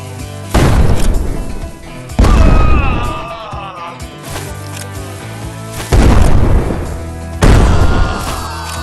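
Dynamite blasts in the VR western shooter Guns'n'Stories Bulletproof: four loud, close booming explosions spaced a few seconds apart, each with a sharp onset and rumbling decay, against quieter game sounds in between.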